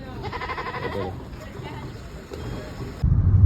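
Goats at a goat market in Jeddah bleat in a quavering, pulsing call near the start, amid busy crowd noise and people talking, before a loud low rumble of handling or wind takes over at the end.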